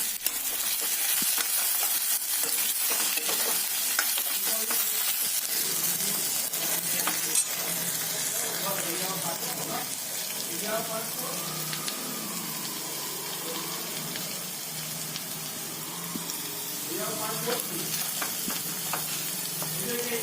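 Steady sizzling of small whole potatoes frying in a pan, with intermittent scraping and stirring sounds over a continuous crackle.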